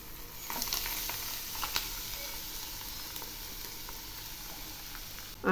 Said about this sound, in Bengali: এবার আমি দিচ্ছি কুড়ে নেওয়া কচুগুলো।